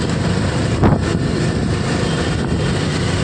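Strong Kalbaishakhi storm wind in Nagarkanda roars steadily into the microphone with a low rumbling buffet, one louder gust surging near the start, no voices.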